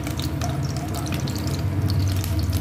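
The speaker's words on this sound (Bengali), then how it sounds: "মাশরুমগুলোকেও ভেজে উঠিয়ে রাখবো" Sliced mushrooms frying with a little salt in a pan, a steady close crackling sizzle with a low hum beneath, no talk over it.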